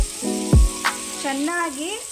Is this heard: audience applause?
no